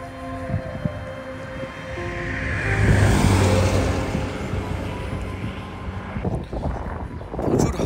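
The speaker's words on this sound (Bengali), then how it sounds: "প্রচুর হাওয়া চলছে কিন্তু" Strong wind blows across Charyn Canyon in Kazakhstan, giving a broad rushing roar that buffets the microphone and swells in loud gusts around the middle and again at the end.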